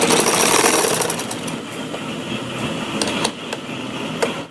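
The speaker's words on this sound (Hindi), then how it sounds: "फिर इस पर यहाँ सिलाई लगा देंगे" A sewing machine stitches the neck of a kurti, making a fast, continuous mechanical whir and clatter, close and loud, with a few brief clicks as the stitching slows.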